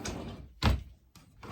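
A dresser drawer holding sweatpants slides and bumps shut with one firm knock, then a softer slide follows a moment later in a quiet bedroom.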